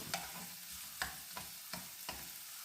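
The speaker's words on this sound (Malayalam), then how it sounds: "അതിൻ്റെ പച്ച ചുവ മാറാനാണ് എണ്ണയിലിട്ട് വഴറ്റുന്നത്" Garlic sautéing in oil for a Kottayam-style fish curry: a soft, steady sizzle broken by about five rhythmic scrapes of a spoon stirring the pan, close and without talk.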